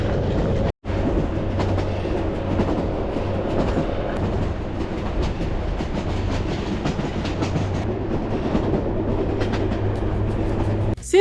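A long distance passenger train on the Nairobi to Nyahururu line rolls steadily along, heard from onboard as a continuous loud rumble with rhythmic clickety-clack of wheels over rail joints, no talking.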